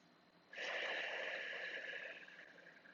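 A single slow, audible breath drawn and pushed out while holding a tight, painful quad stretch during a Pilates stretch-and-restore session, close and quiet, lasting about two seconds with no talking.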